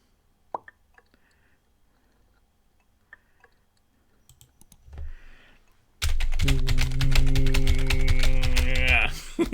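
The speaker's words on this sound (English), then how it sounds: "I hope the sounds of me typing are good" A handful of scattered keyboard taps click sparsely in a quiet room before a loud, sustained tonal sound abruptly takes over.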